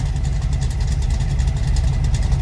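A supercharged 1970 Chevelle engine in a video game idles loudly and steadily, a deep, even rumble with a faint supercharger whirring on top, held without revving and with no talking.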